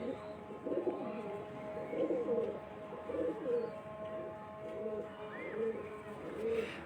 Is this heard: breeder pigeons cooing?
yes